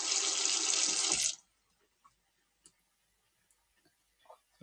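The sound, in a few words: draining tinned black beans at the sink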